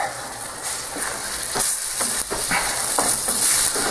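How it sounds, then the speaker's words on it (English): White wine reduces in a pan of risotto rice and vegetables with a steady close sizzle and hiss, with occasional stirring scrapes over the continuous bubbling. "we're just going to cook the wine down and make sure that everything gets a little taste"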